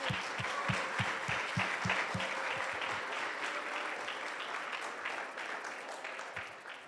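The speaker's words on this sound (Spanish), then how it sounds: "démosle un aplauso al Señor" A congregation at a Christian church service applauds in a full, sustained round of clapping that gradually fades, with a rhythmic thumping beat underneath at the start.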